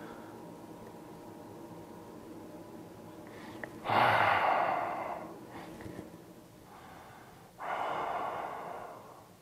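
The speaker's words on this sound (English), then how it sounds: "Big inhale, slow exhale." Slow, deep breathing during a relaxing yoga practice: a long, airy inhale swells up, then tapers away gradually, followed by a softer pause and another broad, breathy exhale, heard close and with no talking.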